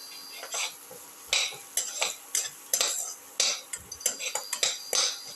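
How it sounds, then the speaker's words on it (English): Onions and shallots sautéing in a pan, heard mostly as a series of sharp scraping and clattering spatula strokes against the metal at an uneven rhythm, with only a faint sizzle underneath. "Saute until the onions and the shallots lose their pinkish color."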